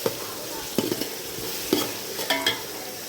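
Ginger garlic paste, made from ground shallots, garlic and ginger, fries in a pan for tuna fish biryani. It gives a steady close sizzle, broken by several scraping stirs and clacks of a spoon against the pan.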